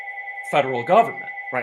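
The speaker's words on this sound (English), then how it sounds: "you can hear the phone in the background" A telephone rings in the background as a steady, sustained electronic tone that runs through the whole moment, sitting beneath a voice talking in short bursts up close.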